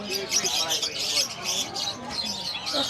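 Parrots chirp and tweet in a busy pet market among Lutino Opa birds, a steady bright chatter of overlapping calls with murmuring voices in the background.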